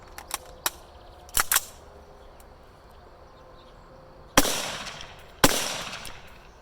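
A rifle with an 11.5-inch barrel fires Tula .223 rounds at an AR500 steel plate: two loud, sharp cracks with ringing tails land a second apart, after several smaller snapping reports.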